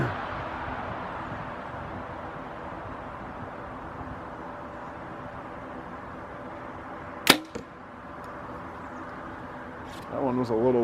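A single arrow from a Prime Black 5 compound bow strikes a target with one sharp, close snap over steady background traffic hum, followed by faint rustling and a voice starting near the end.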